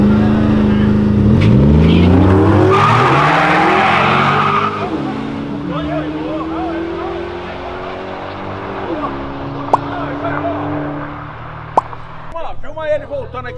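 A Volkswagen Jetta drag-races a Porsche Panamera at a Euroday car event. Loud engines rev and rise in pitch through several gear changes, then fade as the cars pull away, and voices come in near the end.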